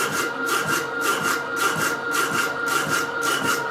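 Hand saw cutting through a square 3/16 Whitworth nut, a steady back-and-forth rasp of roughly ten even strokes, close and loud with no talk.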